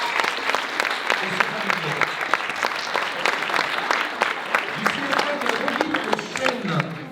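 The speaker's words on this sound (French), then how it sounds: "je vous demande d'applaudir Clara Coignard." Steady, dense applause from an audience at a florists' competition award ceremony, many hands clapping continuously and fairly close, with a voice briefly heard over it.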